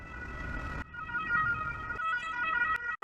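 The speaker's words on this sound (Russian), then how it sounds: "Скорая." An ambulance siren wails in steady rising and falling tones close by, loud and continuous, with traffic rumble underneath and no talking.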